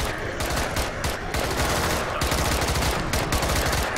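Rapid automatic gunfire from the video game Contagion sounds as a relentless, dense burst of shots, loud and continuous throughout, with a player's voice faintly under the barrage.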